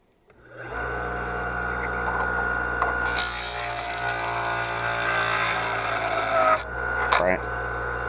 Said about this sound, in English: I'm just going to take the bottom of each one and throw it up against this sander here for a minute